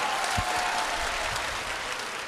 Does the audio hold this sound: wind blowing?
no